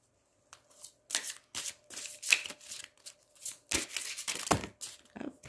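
A deck of tarot cards is shuffled by hand in short riffling bursts, close and crisp, with brief pauses between shuffles and no one talking.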